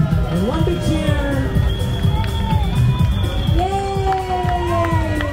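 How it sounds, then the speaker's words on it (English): A crowd at Singapore's Purple Parade community event cheers and shouts loudly together, a dense mix of whoops and calls over busy outdoor noise, close and sustained. "And one big cheer."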